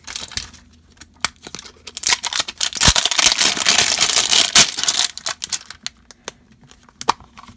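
Scissors slicing open crinkly plastic blind bag packaging for collectible toys, a burst of sharp rustling and crinkling in the middle framed by scattered close clicks and snips.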